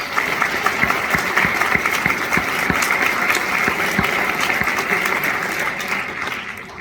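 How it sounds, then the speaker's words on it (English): Sustained audience applause at a community event on offshore wind farms, steady dense clapping filling the room for about seven seconds, fading slightly toward the end. "So let's give them a nice round of applause."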